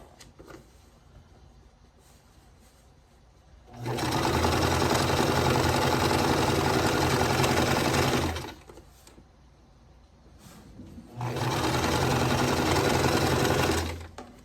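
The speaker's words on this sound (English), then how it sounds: "Now, put the stem on. Now it's right. I'll sew that on." A sewing machine stitching an appliqué stem onto a calico quilt block runs in two long, steady bursts of rapid, loud whirring, separated by a brief quiet pause.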